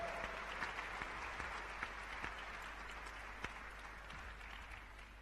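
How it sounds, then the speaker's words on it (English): Audience at a global entrepreneurship summit applauds steadily, a soft, distant wash of clapping that holds evenly throughout. "please welcome her with a warm round of applause"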